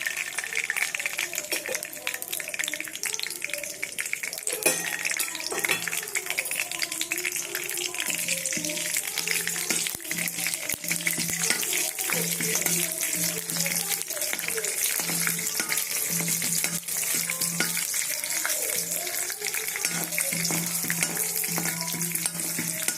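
Peanuts and cashews fry steadily in hot oil, a dense continuous sizzle with occasional stirring clatter, close and fairly loud throughout.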